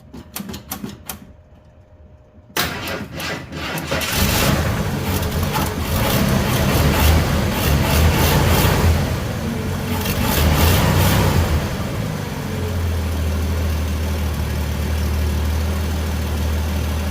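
A Ford 300 inline-six, 4.9 L, with a repaired exhaust leak, cranks a few times and catches, then settles into a steady, loud, close idle with a deep low rumble.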